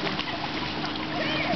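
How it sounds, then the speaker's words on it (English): A ball splashes into backyard water with kids around, a steady broadband wash of splashing and sloshing filling the short stretch, fairly loud and close, with faint voices mixed in. "Bobby doesn't even know his ball went in the water"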